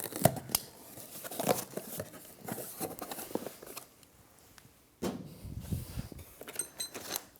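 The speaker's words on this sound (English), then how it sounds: "Let's go ahead and open up your box." A cardboard box holding a leg kit for an Allegro 2 Reformer is sliced and torn open with a knife or scissors indoors, giving close, uneven bursts of ripping and crinkling with a brief pause before more tearing.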